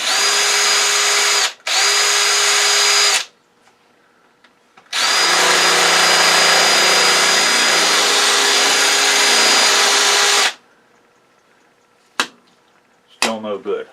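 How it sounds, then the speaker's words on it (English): Power drill with a 5/16 bit boring out rivets on a scrap circuit breaker, loud steady whine in two short bursts, a pause, then a longer run of about five seconds, followed by a few clicks and faint clatter. "So let's attempt to drill that out."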